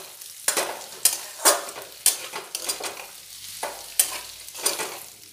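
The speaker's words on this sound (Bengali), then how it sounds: "এবারে ওতে দিয়ে দেবো সামান্য গোটা পোস্ত, দিয়ে আরও 2 মিনিট একটু ভালো করে ভেজে নেব" Potatoes fry with whole poppy seeds in a pan for aloo posto, heard as repeated bursts of spatula scraping and stirring over a soft sizzle, roughly one stroke per half second, close and clear.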